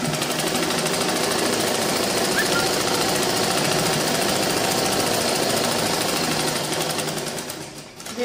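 Sewing machine stitching a seam on a girl's frock, a fast, steady rattling needle drive with a dense mechanical hum, close and continuous before easing off at the end.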